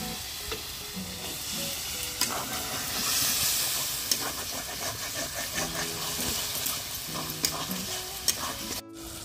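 Chicken masala with potatoes sizzles loudly in a pan over a clay stove as a splash of water goes in, giving a burst of hissing steam and continuous frying crackle with repeated stirring scrapes and clinks.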